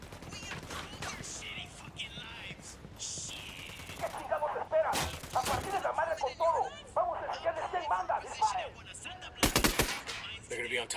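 Dense, sustained gunfire from Ghost Recon Wildlands, with bursts of automatic fire and sharp loud shots layered over voices shouting in a tense firefight; especially intense volleys land near the middle and toward the end.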